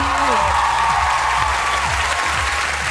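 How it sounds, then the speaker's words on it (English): Loud, sustained applause from a television talent show studio audience, dense clapping filling the whole stretch without a break. "Big round of applause for Rachel, everybody."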